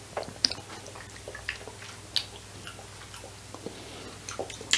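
Soft, close chewing and mouth sounds while taste-testing homemade oil-free vegan hoisin sauce, scattered small wet clicks in a quiet room.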